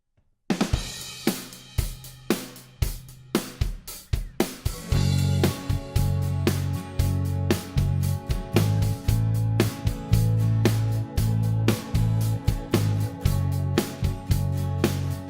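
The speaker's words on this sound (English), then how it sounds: "So what you're hearing is just drums, bass, organ, and vocals." A song plays back with only drums, bass, organ and vocals and no guitars: sparse drum hits at first, then a full steady groove with punchy beats and sustained organ chords, loud and close.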